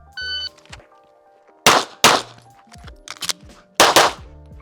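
Smith & Wesson Carry Comp pistol shots ring out loud and close in a quick pair, then a second rapid pair after a reload, with metallic clicks and handling noises between them.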